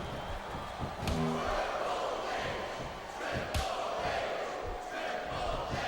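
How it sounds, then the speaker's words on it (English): A wrestling arena crowd in the video game Smackdown vs Raw 2007 murmurs and rumbles steadily in the background, with a few sharp thuds. Commentators talk over the crowd noise. "This capacity crowd is making their opinions known tonight."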